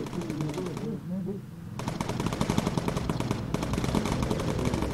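Bomber turret machine guns fire in Bomber Crew, rapid rattling bursts that stop briefly and then resume in long continuous streams, loud and close, with crew voices talking over parts of the fire.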